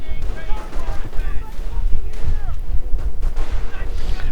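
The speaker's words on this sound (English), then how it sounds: "There we go, sniper fire" Sniper fire in a multiplayer war video game, sharp booming shots and distant explosions scattered through busy battle noise, with a voice talking over it.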